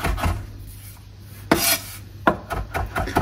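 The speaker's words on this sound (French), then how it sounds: "enlever les grosses tiges de persil, comme ceci, et on va le hacher" A knife chops parsley on a wooden board in a few scattered, crisp strokes with soft rubbing scrapes between, close and fairly quiet, with no talk.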